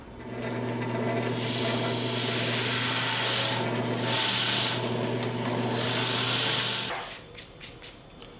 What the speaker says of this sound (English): Now we're gonna go over to the drill press, all right? Now we have our Forstner bits that cut really nice circles